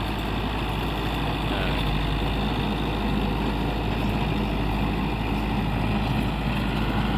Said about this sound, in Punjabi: ਜ਼ੋਰ ਲੱਗਦਾ ਪਿਆ ਟਰੈਕਟਰ ਦਾ।